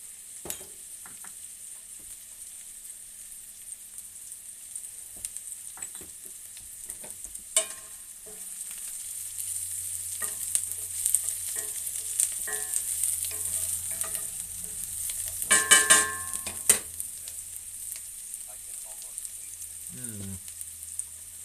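Onions seasoned with salt and pepper fry in a pan, a soft steady sizzle with occasional stirring clinks and scrapes, growing louder in the middle and heard without talking.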